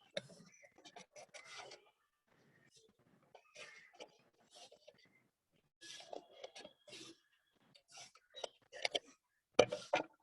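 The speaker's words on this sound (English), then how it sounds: "we will just make a circle and we will just cut the circle." Scissors snip and rasp through paper in short bursts while a circle is being cut out, with quiet pauses between cuts and some faint handling noise.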